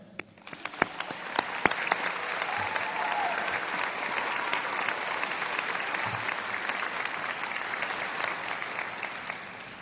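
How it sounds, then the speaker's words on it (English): A commencement audience at UVa-Wise breaks into a round of applause, starting with a few sharp individual claps that quickly swell into sustained crowd clapping, heard from within the hall. "let's give a round of applause to America"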